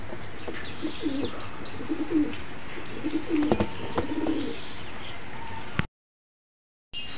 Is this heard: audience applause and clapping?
no